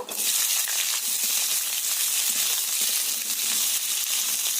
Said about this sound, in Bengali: ওই তেলের মধ্যে কেটে রাখা কুঁদলিগুলো দিয়ে দেব ভাজার জন্য